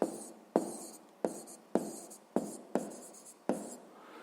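A pen writes answers in a notebook during a sixth-grade math exercise, in six or seven quick bursts of close scratching strokes separated by short pauses.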